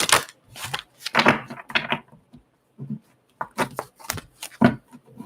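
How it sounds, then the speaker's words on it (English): Tarot cards being shuffled: several quick bursts of riffling and flicking cards with short pauses between, close and fairly loud, no voices. "One more shuffle."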